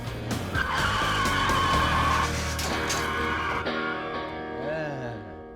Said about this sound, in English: takes the car up to 45 before slamming on the brakes